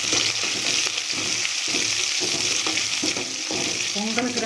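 Mustard seeds, onion, curry leaves and dried red chillies fry in hot oil for a pumpkin stir-fry, a loud continuous sizzle and crackle close up, with stirring scrapes and a few pops.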